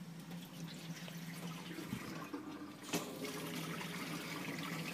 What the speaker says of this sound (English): The reason I open the faucet up is just to purge the air out of the system.